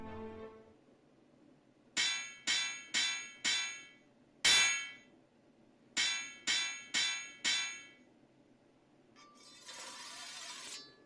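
Forging hammer strikes ring out on a blade in the video game Dragon Quest 3: a quick burst of four bright metallic clangs, one heavier clang, then four more, followed by a shimmering hiss, loud and clear with no talk.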